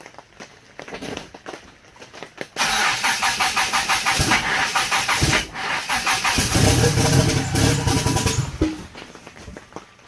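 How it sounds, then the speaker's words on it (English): A Mitsubishi Conquest with a 4G63 engine cranks briefly, catches and settles into a loud, close, steady running note with some rough surges, with no talking. "Starting up a conquest and no leaks."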